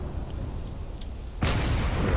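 Long-range cannons and railguns firing in a space battle video game: low, muffled rumbling at first, then a sudden loud, sustained blast of gunfire that carries on to the end.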